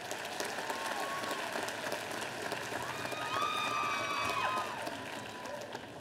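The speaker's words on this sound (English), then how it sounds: "So let's give them a round of applause also." Steady applause from a large audience at a 2014 community college commencement ceremony, sustained and even throughout, with faint tonal whistles or cheers rising briefly in the middle.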